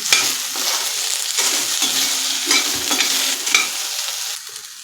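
Onion frying in oil over a medium gas flame for Puneri misal, a dense continuous sizzle and crackle broken by occasional scrapes of a stirring spoon, close and fairly loud, with no voices.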